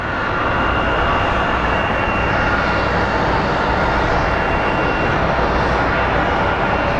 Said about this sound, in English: And up next we have American Airlines 1914 coming in from Las Vegas.